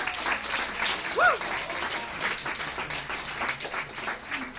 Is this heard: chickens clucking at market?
no